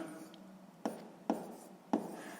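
Chalk or marker writing math on a board for a sixth-grade lesson, three short distinct taps and scratches close up, spaced irregularly over a quiet room background, with no talking.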